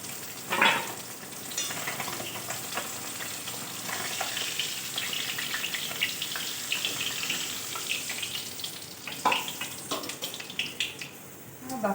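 Small fish frying in hot oil for a mustard-paste and okra curry, a steady close crackling sizzle with bursts of spattering and stirring throughout.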